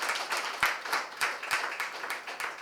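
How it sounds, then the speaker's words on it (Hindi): Audience applause at a Hindi comedy poetry performance, Jashn-e-Adab 2023: a steady wash of many hands clapping, moderately loud and continuous, with a few sharper individual claps standing out. "अच्छी बात पर अच्छी ताली बजनी चाहिए"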